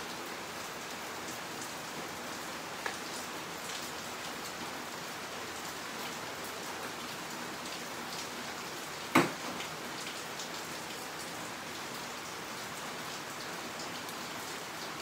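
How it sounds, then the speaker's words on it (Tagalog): Heavy rain pours steadily onto a house, a dense, even hiss of drops on surfaces with one sharp knock partway through; no one speaks. "Ang lakas ng ulan."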